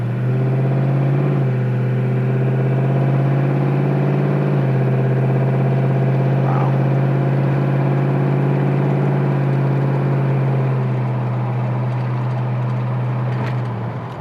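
Engine of a 1936 Ford Sedan Delivery heard from inside the cabin while driving, a steady low hum and drone with a slight rise in pitch as it picks up, continuous and fairly loud, easing off near the end.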